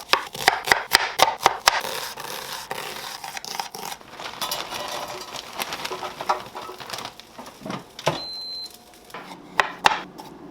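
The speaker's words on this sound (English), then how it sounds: "I'm gonna cut the onion up and cook 1/2" A knife chops an onion on a board in quick, sharp close taps, bursts of rapid strokes followed by sparser cuts, with some light kitchen clatter and no voices.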